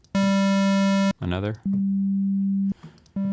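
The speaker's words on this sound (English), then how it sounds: "these oscillators create waveforms that we can listen to" Steady synthesizer tones from the Mai Tai synth in Studio One hum in two sustained stretches, with a brief sweeping tone between them and another starting at the end.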